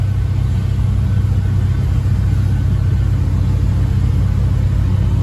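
A big old International truck towing another International truck at about 25 mph, its engine giving a steady, loud low rumble throughout with no talk.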